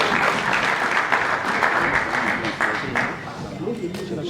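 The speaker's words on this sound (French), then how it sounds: "Sous vos applaudissements, M. Vidal" Audience applause at a French-language political gathering, dense sustained clapping close and loud, tapering slightly near the end, with some voices mixed in.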